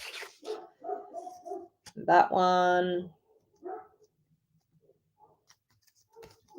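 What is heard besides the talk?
neighbor's dogs barking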